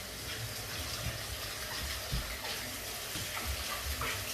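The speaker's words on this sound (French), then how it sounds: "On va passer au fenouil, on va le laver bien sûr." Fennel rinsed under a running kitchen tap, with a steady close stream of water splashing and gushing continuously, with no talking.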